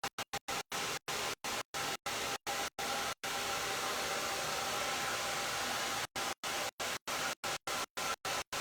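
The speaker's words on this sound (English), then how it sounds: "Blow dryer." A blow dryer drying a man's hair roars with a steady, loud broadband rush, repeatedly cut by brief sharp dropouts in a choppy rhythm, with one long uninterrupted stretch in the middle.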